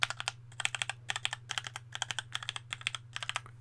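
Rapid typing on a HyperX Alloy Origins Aqua tactile mechanical keyboard, crisp clicky keystrokes in quick bursts and short pauses, close and clear over a faint low hum.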